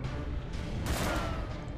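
A volley of rapid gunfire from a hasty shot in the Darkest Dungeon video game, a dense crackling burst that swells near the middle and fades, heard alone with no talk.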